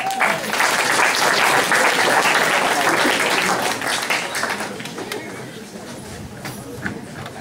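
A studio audience gives loud, dense applause to welcome two guests onto the stage. The clapping stays full for about four seconds, then thins out and fades.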